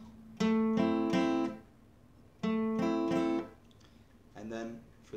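A capoed guitar alternates a plucked 3rd string with the 4th and 5th strings together, producing three short clusters of ringing notes separated by pauses. The last cluster is softer, and faint room noise sits underneath.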